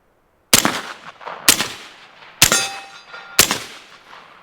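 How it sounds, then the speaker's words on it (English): Four suppressed rifle shots from a 9-inch rifle fitted with a Foxtrot Mike Fat Cat suppressor ring out at roughly one-second intervals, each a sharp close crack with a brief metallic ring and short decay. "this is a good suppressor and this guy does suppress pretty well"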